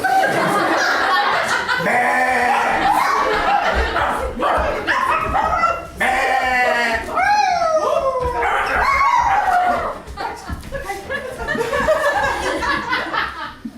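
A dog howls and yowls repeatedly while being rinsed with cold water, long wavering rising and falling cries close up, mixed with people chuckling and talking throughout.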